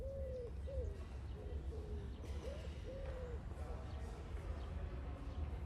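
Pigeons coo repeatedly over a steady low city hum in New York on a calm early morning, the soft calls fairly near but quiet against the traffic background.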